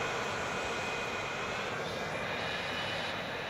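Steady, loud broadband roar of aircraft engines from planes flying in the video game Transport Fever 2, a continuous drone with no breaks.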